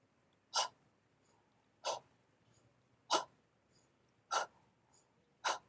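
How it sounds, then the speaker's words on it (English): Rhythmic breathing, inhaling through the nose and exhaling out through the belly: five soft, breathy bursts at regular intervals of a bit over a second, quiet and close, with no talking. "Inhaling through the nose and exhaling out through the belly,"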